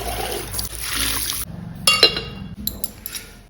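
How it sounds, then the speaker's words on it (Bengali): A juice glass is rinsed with running water, with trickling and splashing followed by a few light clinks of glass being set down or handled, close and fairly clear. "এবার এটাকে ধুয়ে রেখে দিই।"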